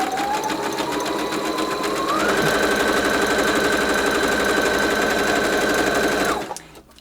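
A sewing machine runs steadily while stitching a tight zigzag along a fabric napkin, a close rapid mechanical chatter that speeds up to a higher steady pace partway through, then stops abruptly near the end.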